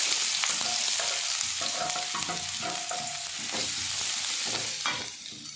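Sliced large onions fry in oil with fennel seeds in a pan, a steady close sizzle broken by scraping stirs and spoon knocks against the metal, with no voices.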